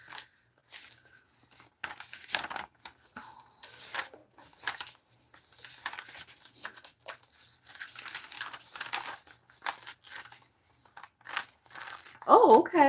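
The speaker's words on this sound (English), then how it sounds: "I'm going to grab some rag paper" Rag paper is handled and shuffled for a mixed-media master board, giving close, intermittent crinkling and rustling bursts with quiet pauses between them.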